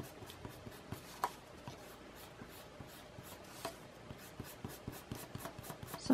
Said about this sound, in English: I think I can erase all my guidelines now.